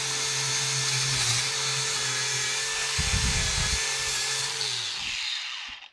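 A rotary cutter grinding into a cracked cast iron Prentiss Bulldog vise casting, a continuous high whine with a rougher, louder grinding bite in the middle before it tapers off, close and steady.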